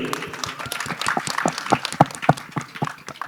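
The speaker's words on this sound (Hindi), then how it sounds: "भूषण जी को एक बार जोरदार ताली चाहिए।" Guests at a film teaser launch event clap for Bhushan ji, with loose, uneven claps and a few sharper individual hits standing out over a thinner crowd patter.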